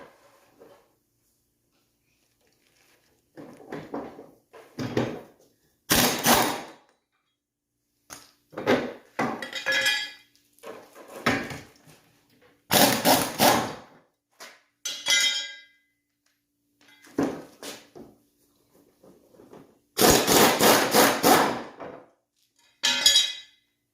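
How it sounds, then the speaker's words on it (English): A 1/2 inch air impact gun removes the hub nut on a lawn mower deck blade, firing three loud, sharp bursts about a second long, up close, among scattered metallic clanks of tools and parts. "I'm going to be using a 1/2 inch air gun."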